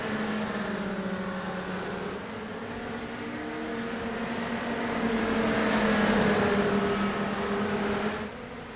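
Race cars in a sim racing video game accelerating away on a green-flag restart, engine tones climbing and sweeping together in a steady, building drone.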